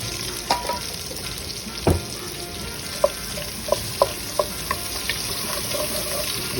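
Chopped onion hits a soup pot for chicken soup and sizzles steadily, with scattered crackles and sharp pops and a few clinks of a utensil stirring, no one talking.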